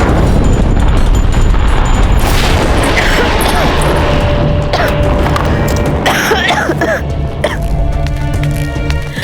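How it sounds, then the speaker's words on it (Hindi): Deep, heavy cannon booms in a Hindi historical TV drama rumble through a loud, dense soundscape, with voices gasping and speaking over them. "ये तोपों के धमाके"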